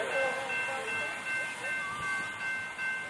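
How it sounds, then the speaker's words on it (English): A southbound train passes on track 2 near Selma, giving a steady, loud rumble and hiss with sustained tonal whine throughout, close and continuous. "Here comes another train."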